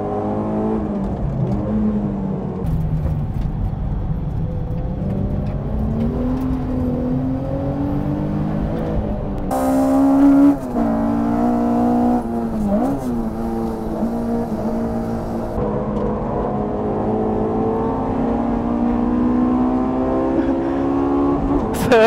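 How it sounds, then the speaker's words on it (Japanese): Cars race and drift in a battle between a Toyota AE86, a Skyline coupe and a Honda S2000, engines droning and revving continuously with shifting pitch, loud and close throughout. "ほぼドリフトじゃん。"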